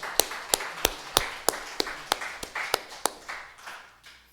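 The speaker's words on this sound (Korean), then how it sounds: "우리 어머니 대단한 어머니인데 박수 한번 쳐야 될 것 같아요" Church congregation clapping together in a steady rhythm, about a dozen sharp claps that soften and fade out toward the end.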